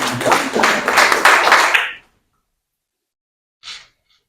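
An audience claps, a dense burst of hands that stops abruptly after about two seconds and is followed by silence and then one short, faint extra sound.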